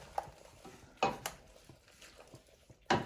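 Escarole bean soup is stirred in a pot. A spoon scrapes and clinks against the pot in several separate strokes, with quieter sloshing between the louder knocks and no talking.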